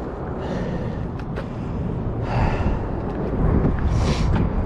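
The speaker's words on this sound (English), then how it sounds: "Sorry for the heavy breathing." Heavy, labored breathing from someone who has just hauled bicycles out of the water while magnet fishing from a boat, with a few loud close exhales and gasps over a rough background.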